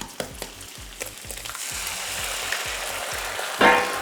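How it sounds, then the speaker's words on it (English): Eggs frying in hot bacon grease, a steady close sizzle that builds and holds, with a few soft clicks of a utensil near the start and a louder crackle burst near the end. "We can get these eggs down in that beautiful bacon grease there"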